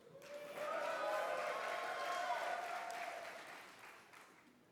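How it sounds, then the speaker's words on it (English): A large business-session audience in a hall breaks into applause, swelling in and fading out, fairly distant and soft with a faint tonal hum beneath. "give yourself a round of applause"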